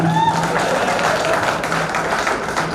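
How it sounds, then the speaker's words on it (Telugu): Audience applause at a school reunion, a dense sustained patter of many hands filling the room, with voices mixed in underneath. "చప్పట్లు కొట్టారు నాయన"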